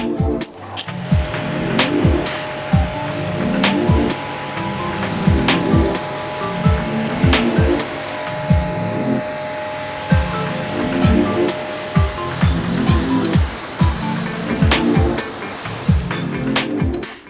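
Water spraying steadily onto a BMW M2 Competition to rinse off snow foam, a continuous broadband hiss with a rhythmic series of low thuds running beneath it, moderately loud and with no talking.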